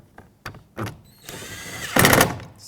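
Power driver tightening T30 Torx bolts on a 2006-2011 Chevrolet HHR mirror switch, a few short clicks and taps followed by a rising whir of the driver spinning, close and loud.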